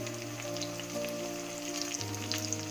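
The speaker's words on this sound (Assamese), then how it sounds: "এতিয়া মই ইয়াত দিছোঁ কাটি থোৱা বিলাহী কেইটুকুৰ" Chopped tomatoes drop into onions frying in a pan for a local chicken curry, a steady close sizzle that shifts in tone partway through.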